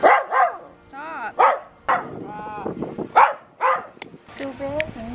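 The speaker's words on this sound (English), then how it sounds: "Don't bark at me." A pet dog barks and yips several times in close, loud bursts, mixed with whimpering, while a person talks over it in a home kitchen where grilled cheese is being cooked.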